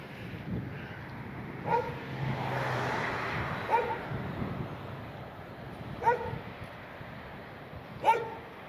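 Dogs guarding a medical institute in San Nicolas bark in sharp single yaps spaced a couple of seconds apart, moderately distant, over faint street and traffic noise.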